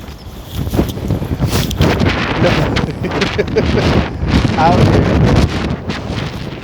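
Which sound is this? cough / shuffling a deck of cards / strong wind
strong wind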